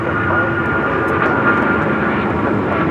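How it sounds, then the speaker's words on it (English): An American Airlines Boeing 777 takes off from runway 25 right at LAX, a loud, steady jet engine roar held throughout, with faint radio chatter beneath. "We got that American 777 now taking off, 25 right"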